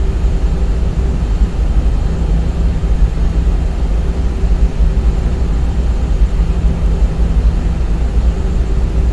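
An Airbus A320 taxies at about 30 knots in X-Plane 11, its engines giving a steady, loud, continuous rumble and hum with no voices over it.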